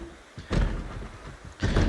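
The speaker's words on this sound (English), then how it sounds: "we have at least 2 zombies trying to get through that door now" Zombies batter at a door in the Project Zomboid game: two heavy thuds about a second apart, the later one louder, with rumbling impact in between.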